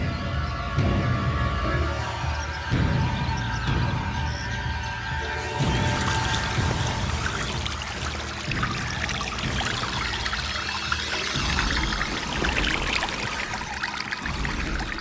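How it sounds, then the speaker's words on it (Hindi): Water emptying out of a tank through an inserted pipe, a steady gushing pour and trickle running continuously and fairly loud throughout, with no voices. "पाइप टैंक के अंदर डाल दिया है ना? हाँ। ठीक है, पानी खाली करना शुरू कर दो।"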